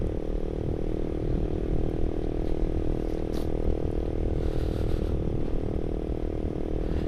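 A motorcycle ridden in the early morning near a landfill, a steady droning engine with road and wind rumble, continuous and close throughout.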